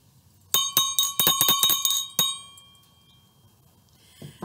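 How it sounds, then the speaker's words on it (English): School bell rung by hand for weekly announcements, bright metallic dings struck in a quick, uneven run of about ten hits, then left ringing out and decaying in a quiet room. "let's get our week started on this glorious day with the ringing of the school bell"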